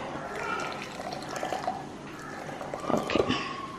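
Boiling water is poured into a container for broken glass jello, a moderate trickling, splashing pour with a few louder drips and gurgles toward the end, close to the listener.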